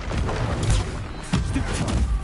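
Stupefy stunning spells cast in the video game Hogwarts Legacy, heard as a couple of dull, thudding magical bursts over a dense, noisy game soundscape.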